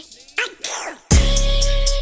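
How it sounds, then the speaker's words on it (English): A single loud close sneeze breaks out after a brief wind-up of breathy inhales, followed by a ringing musical tone. "Ooh, I gotta sneeze."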